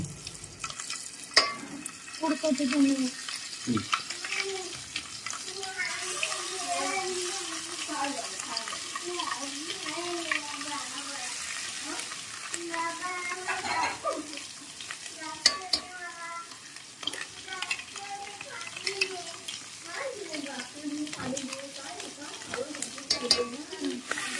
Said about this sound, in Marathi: आणि चमचा फिरव जरा